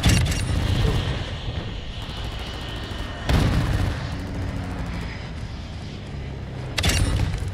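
Video game gunfire in a multiplayer Mosh Pit mode: heavy, booming shots and blasts at close range, with loud bursts every few seconds over a dense, rumbling battle din.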